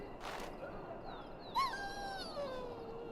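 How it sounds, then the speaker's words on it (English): A sick dog in Dragon Age: Origins lets out a few soft, high whimpers and thin whines over a quiet ambient background, with one slightly louder rising cry midway. "The dog looks up at you respectfully, backing down from his aggressive stance."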